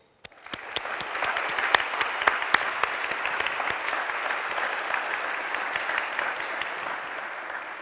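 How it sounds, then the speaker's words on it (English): An audience applauds warmly at a lecture event, steady dense clapping starting abruptly and holding strong for several seconds with no talking. "Most welcome, Mrs. Figueres, and a warm applause"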